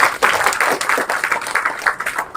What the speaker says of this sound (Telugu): ఒకసారి అందరూ ఒక వీరికి క్లాప్స్ కొట్టి ధన్యవాదాలు చెప్తాం